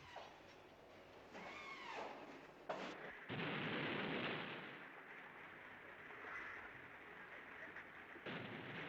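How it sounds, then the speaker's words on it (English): Mock bombs detonate in Old Delhi during a major civil defense exercise, a series of deep booms and rumbling blasts with a heavy, roaring burst near the middle, captured on old, noisy film sound. "Mock bombs explode in Old Delhi, the signal for the start of a major civil defense exercise in the city."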